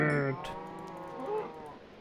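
A Minecraft cow lows in a long, tonal, nasal call, followed by a second, weaker moo, heard close and clear over faint game ambience.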